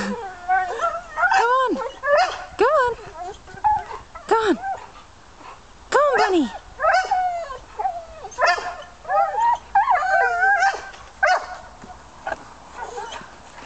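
Boxer dogs playing with balloons tied to a tree let out repeated yips, whines and excited barks at close range, bursting in quick clusters throughout, with no one talking.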